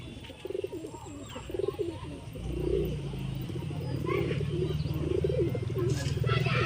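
Murshidabadi pigeons coo repeatedly up close in soft, rolling phrases, with a steady low rumble of background noise.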